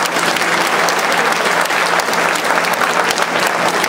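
Dense, steady applause from an audience honouring a professor after a talk at a war-anniversary commemoration, filling the whole stretch at an even, fairly loud level with no voices standing out.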